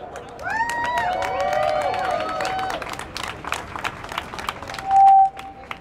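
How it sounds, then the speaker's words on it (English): Applause from a crowd at an outdoor rally for a Civilian Police Accountability Council in 2015 rises after a voice speaks over the microphone, scattered claps building for a couple of seconds before a brief electronic tone. "Everybody give a round of applause for Iggy Flow."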